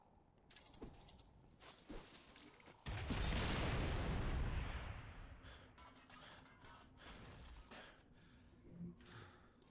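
Rocket explosion in the video game Halo 3: ODST, a heavy booming blast that swells and fades over a few seconds, set among clanks and mechanical game sounds at moderate loudness.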